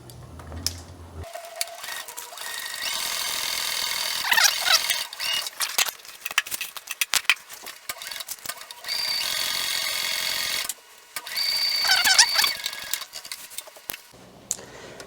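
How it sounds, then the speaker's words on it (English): A sewing machine stitches heavy ballistic nylon tote bag panels along a half-inch seam, back-stitching at the verticals, running in short, close, whirring bursts separated by brief pauses and handling noises. "So I'm going to sew these on the 1/2 inch seam allowance."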